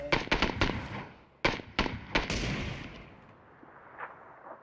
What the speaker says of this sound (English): I'm holding out the sniper. Wait until he stands still. It's gonna be a hard shot, though.